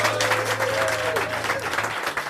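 Enthusiastic audience applause for the band's musicians at a televised live concert, a dense steady burst of clapping from a crowd filling the whole stretch without any talk.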